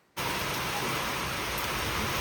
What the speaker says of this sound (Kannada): ನೋಡ್ರಿ ಮಳೆನ ಸ್ಟಾರ್ಟ್ ಆಯ್ತು. ಜೋರು ಬರತ್ತಿತ್ತು ಮಳೆ.